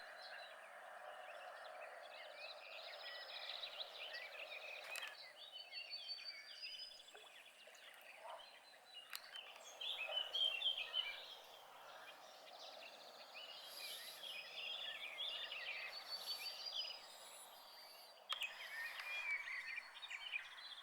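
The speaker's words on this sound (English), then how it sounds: "The singing of the birds mixes with the noise of the traffic on the nearby road." Several birds sing and chirp in a chorus at a beaver pond habitat, steady and moderately close, over a faint low hum of traffic from a nearby road, with no voices.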